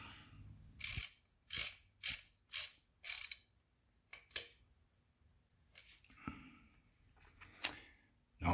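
A ratchet tightens oil line fittings on a Moto Guzzi cafe racer motorcycle, giving several close bursts of clicking with short pauses between them, plus a few lighter metallic taps later on.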